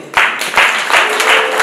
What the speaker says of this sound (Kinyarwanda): mureba se noneho ku biganza bizamuye mubakomera amashyi